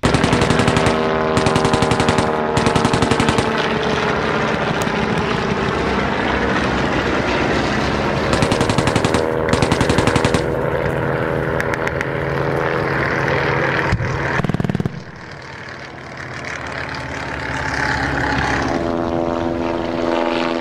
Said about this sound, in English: despite more strafing attacks from the low-flying German aircraft